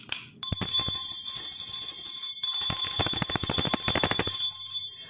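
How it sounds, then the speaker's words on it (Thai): A bell rings repeatedly in rapid, bright strikes, with a steady metallic ringing tone sustained across several seconds, loud and close with no talk over it. "กระดิ่งค่ะไอ้กระดิ่งค่ะ"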